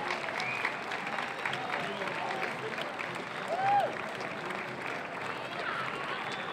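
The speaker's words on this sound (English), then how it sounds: "Let's give them a big round of applause" Fourth of July parade crowd applauding the Aurora Police Department honor guard, a broad, steady outdoor wash of clapping with scattered cheers and a whistle, heard from amid the spectators.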